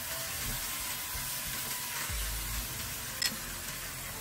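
Lotus root slices stir-fried in a wok, a steady soft sizzle with faint scraping of the spatula, close and continuous throughout with no voices.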